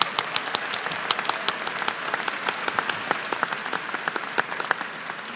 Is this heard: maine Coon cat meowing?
no